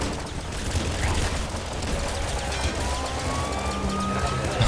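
A double minigun fires in the video game Nuclear Throne, a dense, continuous rattling roar of rapid shots that stays loud throughout, with faint game tones sweeping above it.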